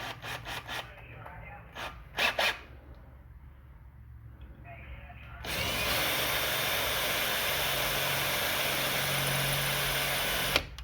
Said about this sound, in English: I will change bits just to get it started, get a little dimple going in there.